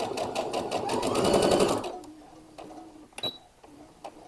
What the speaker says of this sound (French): Maintenant, on va coudre la parmenture.